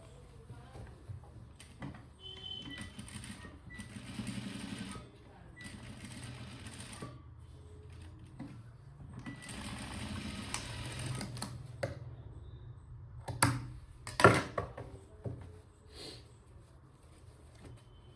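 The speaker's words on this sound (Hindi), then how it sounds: "इसको हम दोबारा से सिलाई लगाएंगे" A sewing machine stitches a Madhubala-style blouse in short, quiet bursts of whirring with pauses and small clicks between runs.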